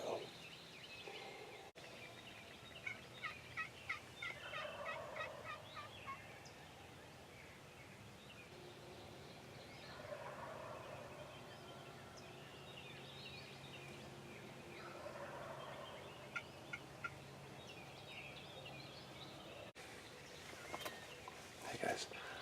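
Faint wild turkey gobbles and clucks sound from a distance in an open outdoor setting in Ohio in spring, recurring in bursts with soft murmured talk nearby.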